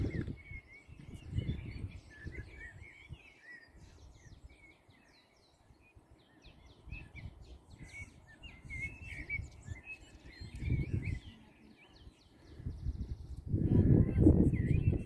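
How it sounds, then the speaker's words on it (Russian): Nightingales trill and warble continuously in the distance near a lighthouse in Chamorga, Tenerife, intricate phrases repeating, while low rumbling bursts of wind or handling noise come and go. "Слышите, как соловьи поют?"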